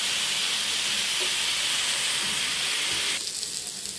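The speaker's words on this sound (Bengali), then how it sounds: "এখন আমি আলু মুগাগুলো ভেজে নিচ্ছি।" Potato sticks frying in oil in a wok, a loud continuous sizzle and steamy hiss up close that drops slightly in intensity near the end, with no talking.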